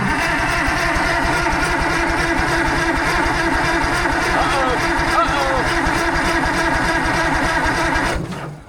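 An old, crusty Allis Chalmers 645B loader engine cranks over steadily in a continuous loud, pulsing drone for about eight seconds, then abruptly stops.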